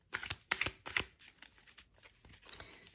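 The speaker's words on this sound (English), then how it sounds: "so let's give it a shuffle" A deck of tarot cards is shuffled at close range, three quick riffling bursts followed by softer shuffling and sliding of cards, quiet with no talking.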